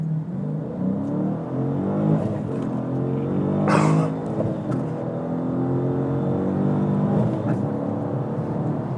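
A 2015 Dodge Challenger R/T ScatPack with a manual gearbox pulls hard from a clutch drop in first gear, its engine roaring and climbing in pitch through a sustained acceleration run, loud and close, with no speech.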